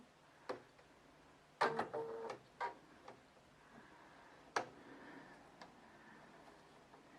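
A Bernina 590 sewing machine's needle threader engages and the presser foot drops, giving a few sharp mechanical clicks and a short whirring clunk close by in a quiet room.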